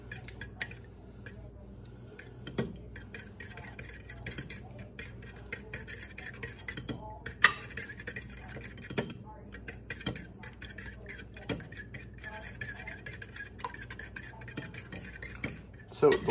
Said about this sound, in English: I'm gonna whisk the eggs here with a fork, break up the yolks